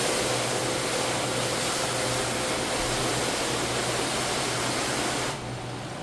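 Steady broadband hiss of water spraying onto a car during washing and rinsing, loud and close, continuous for several seconds before easing slightly at the end, with no voices.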